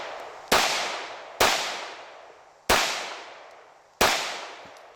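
Four loud, sharp pistol shots from a Glock 17 Gen 5 fired at an outdoor range, spaced about a second or more apart, each cracking close by and trailing off in a long echoing decay.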